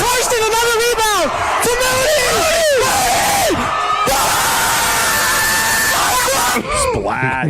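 Crowd of regulars yelling and cheering at a senior night basketball game in a gym, loud rising whoops and shouts in repeated swells, with voices chanting together close by.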